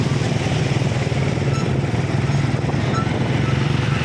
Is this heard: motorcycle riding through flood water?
yes